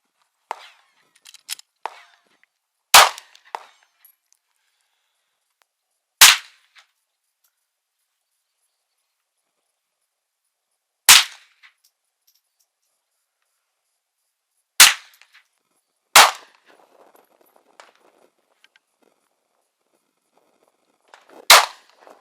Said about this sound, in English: shooting the AR